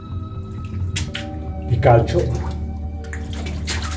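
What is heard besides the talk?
water dripping from limestone stalactite in mine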